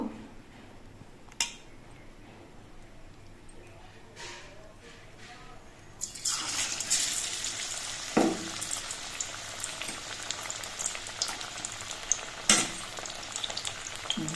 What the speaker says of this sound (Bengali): একটা করে শাপলার ভেলা নিয়ে আমি এই ব্যাটারের মধ্যে ডুবিয়ে দিয়ে ভেজে নেব